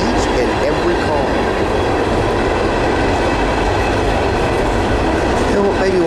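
An NS Herzog ballast train rolls past close by with a loud, continuous rumble of wheels on rails and rhythmic clickety-clack. Faint squeals rise briefly, and the sound is steady throughout with no talk.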